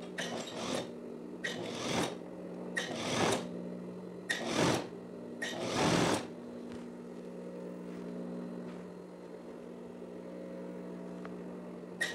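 Sewing machine stitching stretched elastic onto the hem of a teddy jacket, heard as five loud bursts of running stitches separated by short pauses, then a quiet stretch with a low steady hum.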